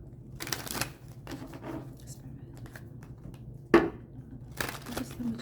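A deck of tarot cards is shuffled close up in several quick riffling bursts with pauses between them, including one sharp snap near the end.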